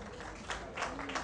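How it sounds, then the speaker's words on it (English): Audience applause at the CAMAwards ceremony in Lagos, a brief, fairly quiet patter of clapping from a seated crowd that swells slightly in its second half. "a round of applause for her"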